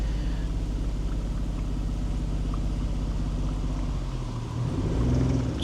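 A manual-transmission Geo Metro reverses up a steep hill, its engine giving a steady low rumble from inside the cabin that dips and then rises again toward the end.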